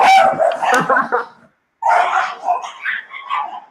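Dogs barking and yipping as an older family dog confronts a new puppy, loud close bursts in two flurries separated by a brief pause, with some whimpering mixed in.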